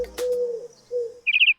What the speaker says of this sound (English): it's pigeon and baby pigeon or squab